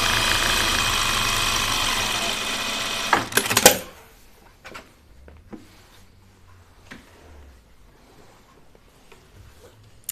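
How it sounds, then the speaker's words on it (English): Sewing machine stitching along the edge of ripstop nylon, a loud steady whirring run for about three and a half seconds that stops abruptly, leaving only faint scattered handling sounds afterward. "So I'm gonna edge stitch the opening."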